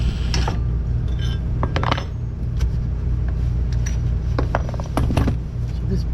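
Ratchet driver working a bolt on a 2000 Fiat 124 Spider during lower trailing arm removal: close metallic clicks and clanks in short bursts over a loud, steady low hum.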